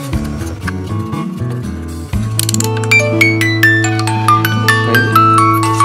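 A small music box mechanism turns and plays, first with soft clicking and whirring of the works, then bright plucked comb notes ringing out over a sustained hum, close and clear.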